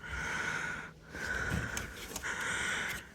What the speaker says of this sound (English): Forgive me for my loud breathing.